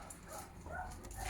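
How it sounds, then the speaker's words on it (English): Excited dogs outdoors give a brief burst of faint yips and whimpers against steady background noise. "even the dogs are getting excited"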